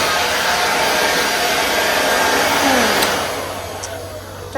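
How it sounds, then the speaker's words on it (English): A leaf blower runs loud and close on a porch, a continuous airy roar that holds steady before easing slightly near the end, with no one talking. "then I'm gonna bring out the blower."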